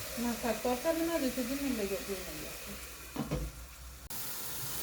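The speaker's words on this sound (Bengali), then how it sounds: "চিংড়ি মাছটা দিয়ে দিলাম একটু কষায় নি" Prawns hit a hot pan and fry with a steady sizzling hiss. Someone talks over the cooking first, then a sharp clatter comes before the frying carries on alone.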